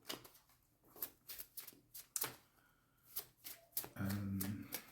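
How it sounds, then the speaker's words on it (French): A deck of tarot cards is shuffled by hand in a series of crisp, sharp riffles and snaps with short pauses between them. A brief soft voice comes in near the end. "Je vais tirer une autre carte"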